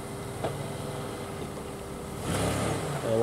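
Full-size RC car driving in reverse, a steady motor hum close by that swells slightly louder toward the end.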